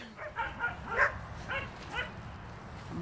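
Australian Shepherd barking and yipping in a few short bursts, moderately close, mixed with whimpery sounds over quiet outdoor background noise.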